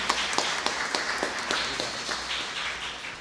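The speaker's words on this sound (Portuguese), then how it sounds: "peço uma grande salva de palmas para o nosso pastor" Audience applause for a pastor at a Brazilian municipal council session honoring local artists, a dense steady patter of many hands clapping at moderate distance, continuous and even throughout, with no voices over it.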